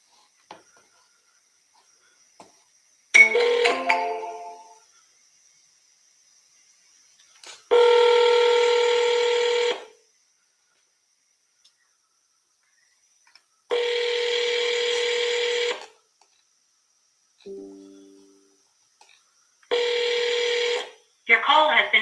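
Long, loud phone call tones ring out in regular spaced pulses, with a short burst of dialing at the start, while calling sellers; a brief voice-like snippet appears between rings.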